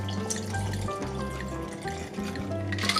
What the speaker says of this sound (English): And pour half in the glass.